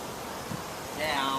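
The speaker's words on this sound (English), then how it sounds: "It's a very, very windy day here today." Strong wind blows outdoors on a very windy day as a steady, breathy rush of noise that swells slightly toward the end.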